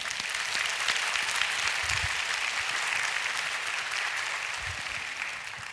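A church congregation claps steadily and continuously for several seconds, a dense, even wash of applause filling the room without pause.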